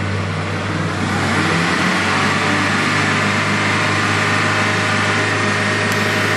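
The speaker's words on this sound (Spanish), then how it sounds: "vamos a acelerarlo ahora a unas 2000 revoluciones" A car engine with a lean-condition fault, held at about 2000 rpm, gives a steady loud hum that stays constant throughout at close range, with no speech.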